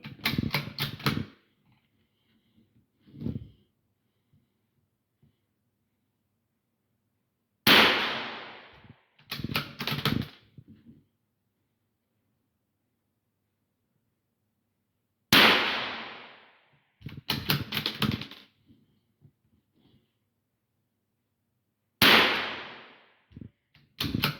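A scoped .22LR rifle fired outdoors: four sharp cracks spaced several seconds apart, each followed by a quick burst of bolt-action clicks, with quiet pauses between.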